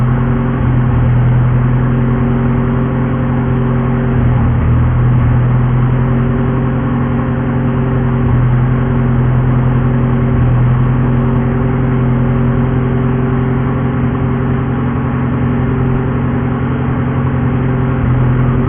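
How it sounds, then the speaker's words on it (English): A Honda Civic engine idles steadily while warming up from a cold start, a loud, close, continuous hum with a constant low drone and no talking over it. "we'll just let it run a little while till the car warms up and the idle comes down from the 1300 to about 1000"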